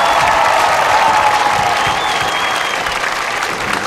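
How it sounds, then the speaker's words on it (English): A crowd at a marching band festival applauds the performing ensembles with dense, sustained clapping and some cheering, loud and even throughout. "how about a big round of applause for all of the performing ensembles this evening?"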